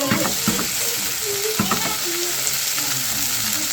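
Food sizzles in a pan with oyster sauce as it is stirred, steady frying crackle with intermittent scraping clinks of the utensil against the pan.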